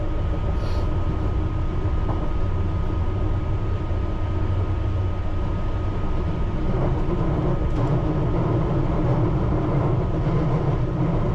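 A London Underground Piccadilly line train runs at a moderate speed near Stamford Brook, heard from inside as a loud, steady, rumbling roar with a faint whine and occasional clicks of wheels over the rails.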